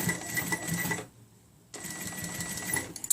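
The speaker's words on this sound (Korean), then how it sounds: "그래서 박음질 할 때 항상 허리, 오비 부분을 앞으로 밀어주면서 박음질 하세요." A sewing machine stitches the waistband of a pair of jeans: a close, steady mechanical whirring that stops for about half a second, then starts again and runs to the end.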